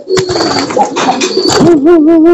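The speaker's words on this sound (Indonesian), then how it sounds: "Kita coba di sini ada merpati juga" Domestic pigeons coo loudly and close up, throaty rolling calls that rise into sustained warbling notes near the end, with no voices present.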